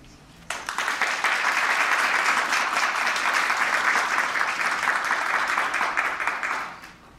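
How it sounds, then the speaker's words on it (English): Sudden applause breaks out at a school board meeting, a full room clapping steadily for several seconds before fading away at the end. "we applaud you"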